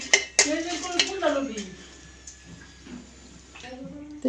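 Running water splashes while dried fish is washed by hand for a mashed dish in a home kitchen. A nearby voice speaks over it near the start, and the water fades in and out with a few soft clatters.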